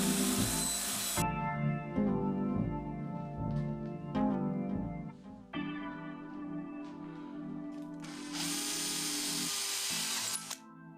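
A power tool cuts a notch into a wooden crossbow stock, whining in several bursts with pauses between, then running into a louder, harsher stretch near the end, close and with no talk.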